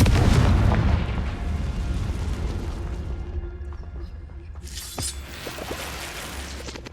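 A Confringo blasting curse in Hogwarts Legacy produces a loud, close explosive boom at the start that decays into a long rumbling tail, followed by a softer burst a few seconds later.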